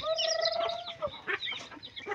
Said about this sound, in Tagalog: Pakaon si Inday Vlogs ug manok